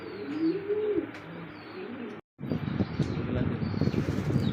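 A fancy pigeon at a pigeon sale coos softly with rolling throaty calls and scattered chirps, heard under nearby talking, with a brief dropout midway.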